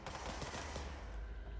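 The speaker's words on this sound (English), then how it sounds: "Who's shooting at us?" Rapid automatic gunfire in a third-person shooter game, a steady dense rattle of shots throughout at a moderate distance, without pauses.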